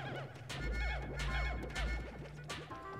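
Horses in a video game neigh and whinny repeatedly over a bed of hoof footsteps, loud and close, with overlapping calls and no talk.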